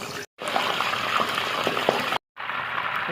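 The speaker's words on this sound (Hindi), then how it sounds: "अब इसको हम अच्छे तरीके से फ्राई कर लेंगे।" Cauliflower florets frying in oil in a pan, giving a steady, dense sizzle and crackle that cuts out twice for a moment.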